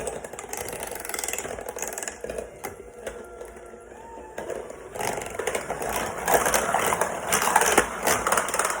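An electric mixer churns sweet potato pie filling with a steady, rattling motor whir that rises and thickens partway through, close and continuous, with no voice over it.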